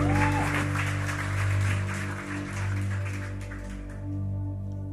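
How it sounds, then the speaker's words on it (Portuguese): A church congregation applauds in a broad, moderately loud wash of clapping. Sustained music tones sound underneath, and the clapping thins and fades toward the end. "Vamos aplaudir a vida dela, por favor."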